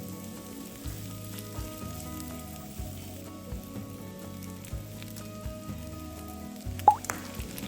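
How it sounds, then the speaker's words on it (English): Garlic, ginger and the white part of green onion fry in a pan with a low, steady sizzle throughout, a few faint stirring clicks and one sharper tap near the end. "Then add garlic, ginger, and white part of green onion. Fry for a while until you can smell the strong aroma from them."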